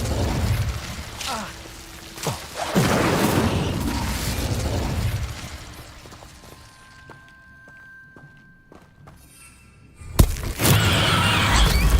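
Incendio fire spell cast in Hogwarts Legacy, with bursts of whooshing flame and crackling blasts that come loud, then fade into quiet tones and ticks before a sharp impact and a fresh roaring burst.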